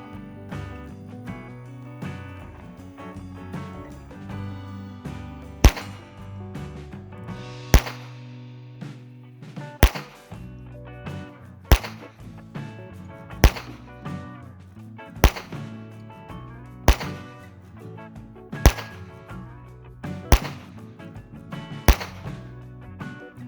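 Gunshots fired at targets on an outdoor shooting range ring out as about a dozen sharp, evenly spaced cracks at intervals of one to two seconds, standing out above a steady backing music bed.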